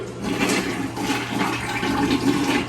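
A toilet in a water closet flushes with a loud, steady rush of water that stays close and continuous, with no talking over it.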